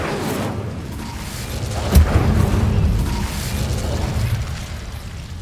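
A fire spell is cast in Hogwarts Legacy: a single muffled burst with a low boom rises out of a quiet rumbling game backdrop, then fades into a steady low hum.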